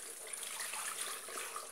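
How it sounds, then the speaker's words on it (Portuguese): Tap water runs steadily into a kitchen sink while food is rinsed during simple lunch preparation, a continuous close hiss and splash with no pauses. "daí eu enxago aqui"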